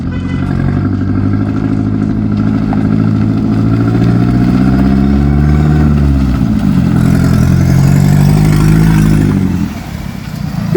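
An ABT-tuned Audi TT drives past and revs, a loud, close engine note that climbs and falls through several rises in pitch, then drops away near the end.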